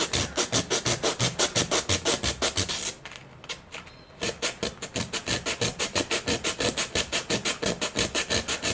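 100 grit sandpaper rubs in fast, steady back-and-forth strokes while scuffing a model aircraft servo bay, loud and close, pausing briefly midway before resuming the rhythmic rasp.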